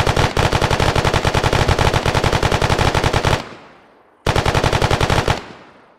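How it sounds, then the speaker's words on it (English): Rapid automatic gunfire in a video game, two long sustained bursts of evenly spaced shots, loud and close, separated by a short pause with a fading tail. "What are you shooting at?"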